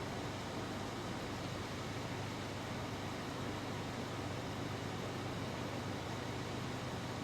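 A Honda Amaze CVT engine idles with the air conditioning on, bonnet open and window down, giving a steady, even broadband hum and whir with no obvious surges across the whole stretch.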